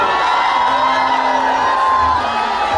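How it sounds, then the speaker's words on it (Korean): A large crowd cheers and claps continuously, a dense wash of voices and applause with a few shouts rising above it. "여러분 박수 한번 주시고"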